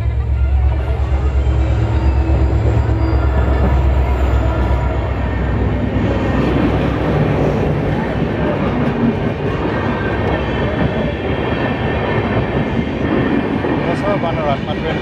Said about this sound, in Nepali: यहाँ ट्रेन आउँदो रहेछ